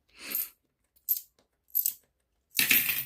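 Several short metallic clinks of coins being handled and set down, three brief bursts followed by a longer jangling shuffle, close by with no talking.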